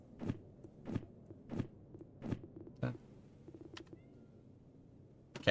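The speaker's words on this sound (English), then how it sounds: "I heard meows." Cat meows in the train simulation game Derail Valley: several short, sharp calls spaced roughly evenly, then softer scattered clicks, fairly faint against a quiet background.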